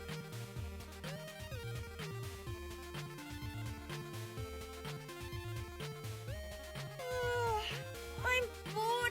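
A house cat meows during a gaming stream, its calls sitting under dense game music and sound effects, fairly faint and mixed in rather than standing alone.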